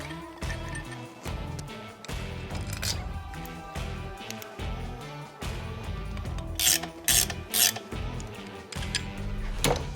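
A bearing being pressed into a Harley-Davidson M8 cam chest with a press tool, heard as close rasping and creaking with rhythmic scraping strokes and occasional sharp clicks, without talk.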